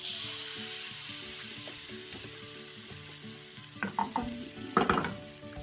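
Butter-greased crepe pan sizzling steadily with a soft hiss, joined near the end by a few sharp scraping clinks of a utensil stirring in the pan; no talking.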